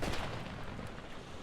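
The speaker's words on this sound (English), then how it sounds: "Oh, here's their cannons." Distant cannon artillery fire rumbles faintly across a battlefield in the strategy game Empire: Total War, a soft muffled boom trailing into low noise.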